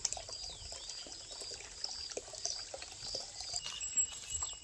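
Water trickles and pours steadily into a tub being filled for cattle to drink on a farm, a faint, continuous splashing flow with small drips, no talk.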